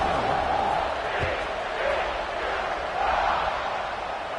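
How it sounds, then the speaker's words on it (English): A football stadium crowd at a TCU versus Boston College game buzzes steadily after a score, a dense, continuous roar of many voices at a fairly even level throughout, with no single voice standing out. "this crowd is buzzing after that last score"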